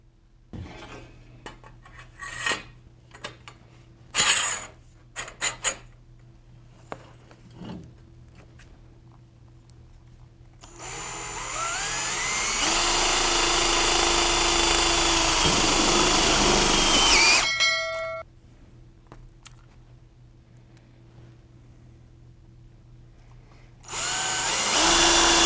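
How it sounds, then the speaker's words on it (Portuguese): A power screwdriver drives self-drilling metal screws, with scattered handling clicks and taps first, then a long steady loud whir, a pause, and another whir starting at the end. "nós vamos utilizar uma parafusadeira e os parafusos para metal"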